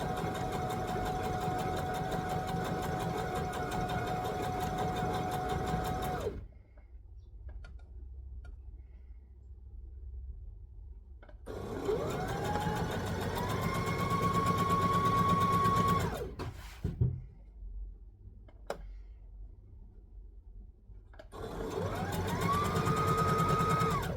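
A sewing machine stitches a lap quilt in fast, steady whirring bursts, stopping twice for a few seconds of near silence before starting up again, loud and close.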